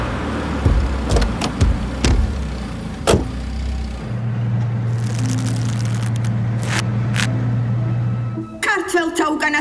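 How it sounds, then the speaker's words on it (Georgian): A waiting car gives a few sharp door knocks, then a steady electric window motor hums for several seconds before ending in a cluster of clicks and clunks. "მანქანა უკვე გელოდება."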